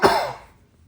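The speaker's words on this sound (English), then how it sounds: "A little bit of a cough." A single sharp cough rings out close and loud, then trails off into a quiet room within about half a second.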